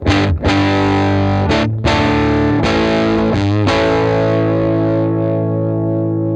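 An electric guitar plays sustained chords and a few slides through a neutral-set 1955 tweed amp plugin with a warm, vintage-style tone, loud and ringing, with no voices.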